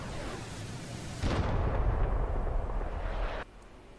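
Rocket explosions strike an outpost in the flight game DCS World, heard as a sudden deep roaring rumble that swells for about two seconds over a steady background drone before cutting off.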